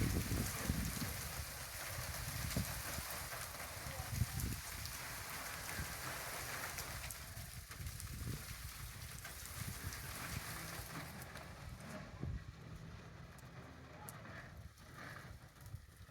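Heavy storm rain pours in a village, a dense, steady roar of drops drumming on surfaces that carries on throughout and eases slightly toward the end, with no clear talk.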